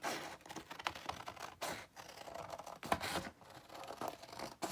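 Scissors snip steadily around the edge of a paper journal tag, a close, dry run of short cuts and paper rustles with brief pauses, no talking.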